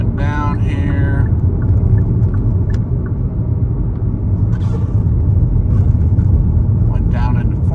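Steady low engine rumble from a 2021 Kia Soul with a manual transmission, heard from inside while it drives and slows, with a person talking over it at intervals.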